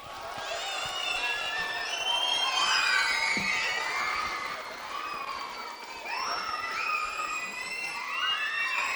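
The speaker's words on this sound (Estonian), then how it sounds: "teeme parava aplausi Kevin Kenert-Sits" At a school pop-music playback show in 2024, an audience cheers, shouts and whistles with applause in one continuous, loud wave of excited voices that swells and dips slightly.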